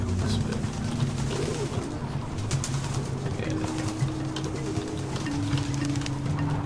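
Pigeons coo inside the puzzle game Antichamber, soft repeated low coos layered over a continuous dense bed of game ambience, steady and moderately loud throughout.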